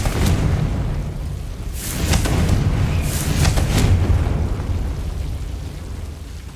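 The Confringo blasting curse goes off in Hogwarts Legacy: loud, close booming bursts that rise over a steady rumble, with a few explosive cracks clustered in the middle of the stretch.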